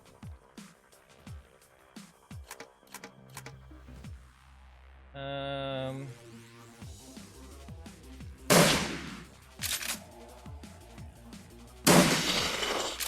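Sharp gunshots crack intermittently in a shooting video game, single shots and short bursts spaced over several seconds, with a brief electronic tone in the middle and two heavier explosive blasts later on.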